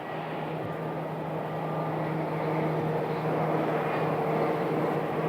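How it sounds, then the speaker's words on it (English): Spirit airliners departing Phoenix Sky Harbor airport: a steady, distant jet engine rumble with a faint tonal whine, sustained and gradually growing slightly louder, with no speech. "two Spirit aircraft"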